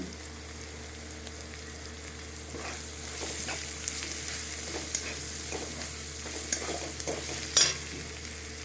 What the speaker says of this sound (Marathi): आता आपण याच्यामध्ये हा कडीपत्ता टाकून घेऊ